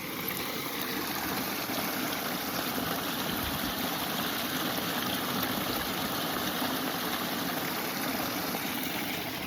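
Water flows steadily with a broad, continuous rushing wash that holds an even level throughout, with no voices over it.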